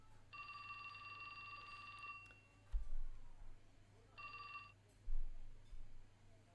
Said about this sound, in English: his cell phone rang